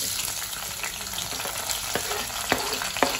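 Bay leaf dropped into hot oil in a home kitchen, a continuous close sizzle with a few sharp pops and spatters near the end, no talking.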